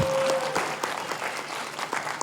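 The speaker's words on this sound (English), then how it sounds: "Yeah, let's clap." An audience claps at a convention general session, steady scattered applause from a large hall, moderately loud, with a brief tone at the very start and no clear speech.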